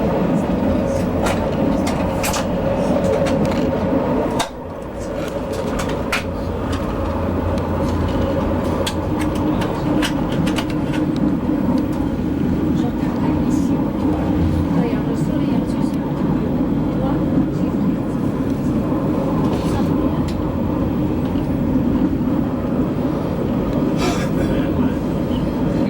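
A train rolls steadily along a Swiss mountainside, a continuous loud rumble of wheels and carriage noise with faint clicks throughout and a brief dip near the start.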